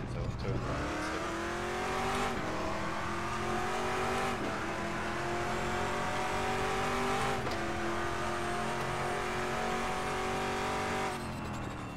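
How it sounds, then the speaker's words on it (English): A race car engine roars continuously in the RaceRoom racing game, with the car slowing on its own under a braking assist, pitch sagging and rising through gear changes; someone talks over it. "Here it's braking on its own."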